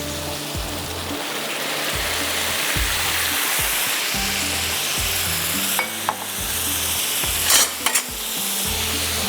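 Cabbage hits a hot, sizzling pan of handi gosht, giving a loud, steady frying hiss with periodic stirring scrapes and a few sharp clatters near the end, no voices.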